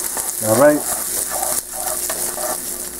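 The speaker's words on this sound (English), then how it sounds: "we're just gonna saute this for about a minute or two, until it gets somewhat translucent" Onions sautéing in a pan for an omelet give a steady close sizzle and stir, with a brief tonal utensil scrape near the start and no talk.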